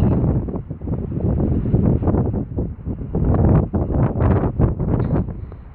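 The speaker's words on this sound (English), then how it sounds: "Sorry, it's very windy." Strong wind buffeting a microphone at Sydney Kingsford Smith airport while plane spotting, loud rumbling gusts that rise and fall continuously across the whole stretch, with no talking over it.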